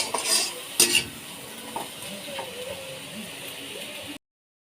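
Prawn heads fry in a pan, a soft low sizzle under sharp metal spatula scrapes and clinks against the pan, loudest at the start, then quieter stirring before it cuts off.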